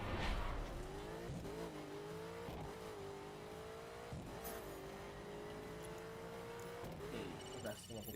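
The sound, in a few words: car driving in video game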